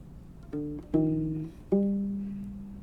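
Three plucked notes from a U-Bass form measure 20 of a song. The last note rings out longest, with the deep, rubbery tone up close and played alone.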